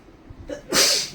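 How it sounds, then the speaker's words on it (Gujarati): A small child with a cold lets out a single close, breathy sneeze that builds briefly, then bursts loudly near the end. "અને હવે છીકશે."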